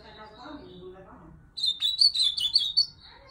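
A female ultramarine grosbeak bursts into a loud, rapid run of bright chirps and twittering notes after a brief stretch of quiet background talk.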